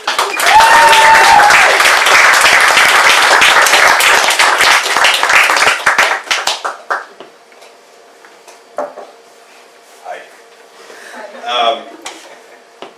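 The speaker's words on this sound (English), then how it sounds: "give him the biggest round of applause, Mr. John Joe Horan." Loud, dense applause from an open-mic poetry audience for several seconds, then tapering off into scattered claps, faint voices and small room noises.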